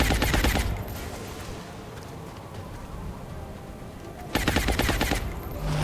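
Rapid bursts of suppressive machine gun fire in the XCOM Long War strategy game, loud rattling volleys opening and closing the stretch with a quieter rumbling gap between them, no talk.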